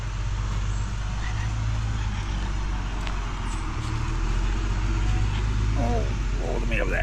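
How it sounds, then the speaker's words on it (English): A dump truck rumbles along a country road, a steady low engine drone that stays close and continuous, with light background noise around it. "What's this dump truck doing?"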